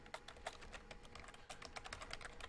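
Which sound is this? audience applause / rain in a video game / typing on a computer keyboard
typing on a computer keyboard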